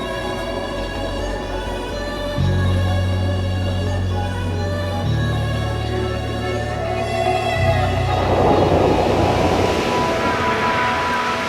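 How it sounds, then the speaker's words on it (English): A train passing quickly through Lahore's suburbs, with a loud, steady rumble and tonal hum that shifts in pitch as it goes by, growing into a rushing noise near the end. No voices are heard over it. "The train passed quickly through Lahore's suburbs."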